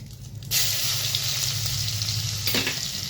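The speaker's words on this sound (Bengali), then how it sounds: "এই একই তেলে আমি রসুন কুচিটা দিয়ে দেব।" Chopped garlic hits hot oil left over from fried shrimp and bursts into a loud, steady sizzle up close, a dense hiss that holds without a break and has no talking over it.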